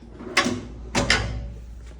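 Two sharp metallic slides and clunks as drawers close on a Rico 285-piece six-drawer tool cabinet, close and distinct over a low hum.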